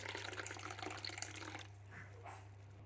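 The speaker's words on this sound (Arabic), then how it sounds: "نجيب طبق نحط فيه ميه" Hot, freshly boiled water poured into a plate while preparing quick pickled cucumbers for shawarma, a steady splashing pour for about a second and a half that then stops, leaving a low hum and faint clatter.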